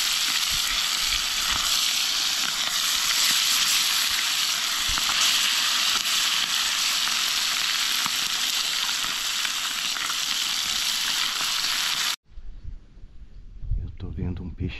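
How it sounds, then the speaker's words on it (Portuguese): A piece of fish fries in a pan at an outdoor camp on the Juruena River, giving a loud, dense, continuous sizzle for about twelve seconds before it cuts abruptly to quieter rustling. "Vamos fazer um peixinho frito."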